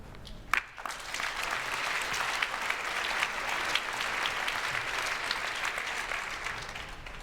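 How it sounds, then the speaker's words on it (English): Audience applause at a panel discussion on business and a just transition: a steady, even wash of many hands clapping that holds for several seconds without voices. "Let's have a big round of applause for those speakers."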